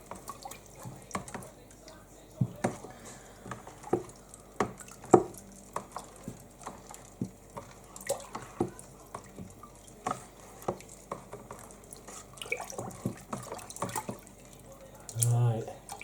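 A liquid nutrient mixture is stirred, giving soft sloshing, dripping and swishing sounds up close. A quiet voice is heard faintly in the background.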